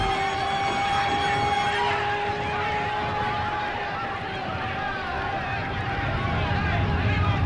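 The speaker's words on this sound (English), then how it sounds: "The ambulance sirens you now hear in the background should be pure and non-wavering." Sirens wail steadily in the background under a noisy, rumbling scene, while someone talks over them.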